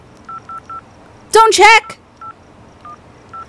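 In a video game, a telephone is dialed with a series of short electronic keypad beeps, several before and after a brief burst of speech.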